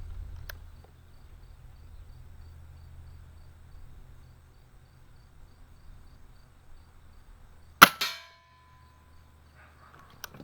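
A single sharp airgun shot cracks out during a squirrel hunt in the woods, followed by a brief ringing clang, set against steady insect and cricket chirping and faint low outdoor rumble.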